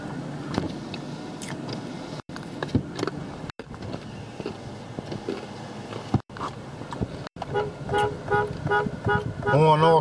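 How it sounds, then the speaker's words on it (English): The horn of a 2015 Toyota Tacoma sounds in a few short toots near the end, over a background of rustling handling noise and scattered clunks. "Horn also blows."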